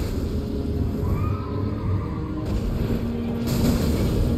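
In Elden Ring, a cavalry horse whinnies in a drawn-out call over a dense rumble of game ambience and distant battle noise, moderately loud and unaccompanied by speech.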